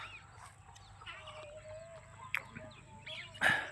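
Chickens cluck faintly and sparsely on a small one-acre farm, a few short calls rising over a quiet outdoor hum.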